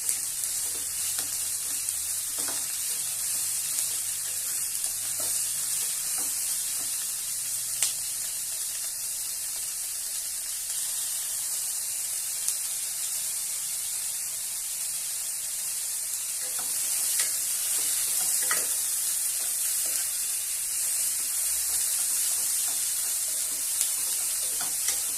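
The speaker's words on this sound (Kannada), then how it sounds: "ಇದಕ್ಕೆ ಕಟ್ ಮಾಡಿರೋಂಥ ಟೊಮೊಟೊ 2, ಮತ್ತೆ ಸ್ವಲ್ಪ ಪುದೀನ. ಇದು ಚೆನ್ನಾಗಿ ಫ್ರೈ ಮಾಡ್ಕೊಳ್ಳೋಣ." Chopped tomatoes and mint fry for a village-style chicken sambar, giving a steady, moderately loud sizzle with occasional soft stirring scrapes, no voices.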